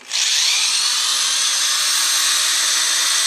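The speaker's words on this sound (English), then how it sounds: "just degas it with my electric drill" A loud, steady electric drill degassing homebrewed beer whines continuously after a brief start-up, with a high, even motor pitch and no voices.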